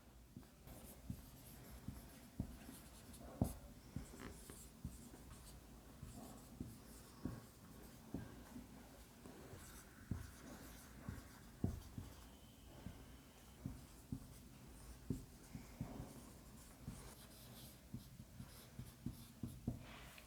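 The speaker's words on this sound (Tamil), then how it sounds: "ஸோ இப்போ நான் 2 எக்ஸாம்பிள் எழுதுகிறேன்." A pen writes example sentences by hand, giving faint, close scratching strokes with soft taps at irregular intervals through about twenty seconds of quiet, with no talk.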